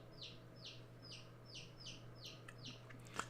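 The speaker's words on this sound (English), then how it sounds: "If y'all hear birds in the back, my daughter has baby chicks for a school project." Baby chicks peep in the background, about seven evenly spaced high chirps in a steady rhythm, faint against a low hum, with a small click near the end.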